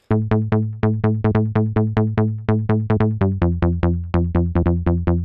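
Punchy FM-style synth bass in the style of a DX7 preset plays a bouncy line of short, bright staccato notes with a metallic edge, changing pitch toward the end, played alone.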